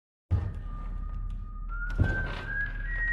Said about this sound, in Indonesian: terdengarnya dentuman keras yang menaiki tangga sambil bersiul